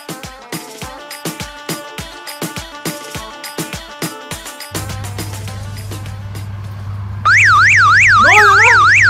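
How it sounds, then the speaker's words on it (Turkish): A car alarm chirps at first, then blares into a rising and falling wailing siren tone over a low steady hum, loud and close. "Alarmı öttü abi, bir dakika."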